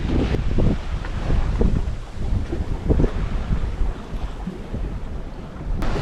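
Strong 20-25 knot wind gusts across a sailboat on a beam reach between Samsø and Grenaa in Denmark, a loud steady rush with waves and water noise beneath, no voices.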